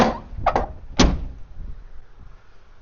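A carb air lever on a 1970 Dodge Super Bee being pulled to open the ductwork, giving a few close, solid mechanical clunks in quick succession, then a quieter tail.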